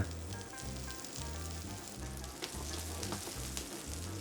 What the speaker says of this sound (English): raising the fire a little bit, the heat back to 360, and start cooking our onion